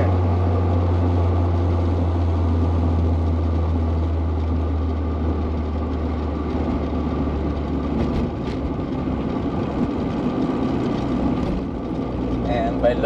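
A Honda car engine holds 4,000 RPM in fourth gear while driving, giving a steady, continuous drone with a strong low hum that fades after several seconds beneath the ongoing road noise.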